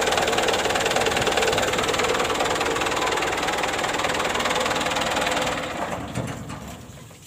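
A car engine idles steadily while its radiator is refilled with water, a constant mechanical hum and rattle, no voices, easing off slightly toward the end.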